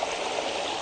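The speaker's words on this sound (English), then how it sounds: "and it gushes below the wheel, and it turns the paddles" Water released from a reservoir gushes onto an undershot water wheel, turning its paddles in a working model: a steady, close rushing stream that holds constant throughout a brief moment with no voices.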